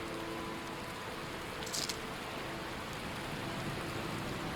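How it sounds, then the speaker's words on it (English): Steady rain pours down in the Skyrim game world, a dense, even hiss that holds at a constant level throughout without a break. "the rain's really starting to come down"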